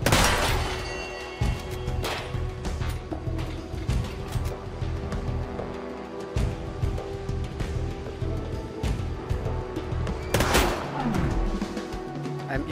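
Gunfire from the robot pirate video game SteamWorld Heist II: a dense run of sharp shots and crashing impacts over busy in-game music and mechanical noise, with a heavy burst of blasts near the end.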